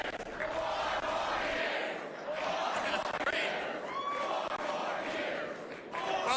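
An election-night crowd in Detroit for Rick Snyder's speech for governor fills a large room with loud, sustained cheering and chatter, swelling and dipping in waves.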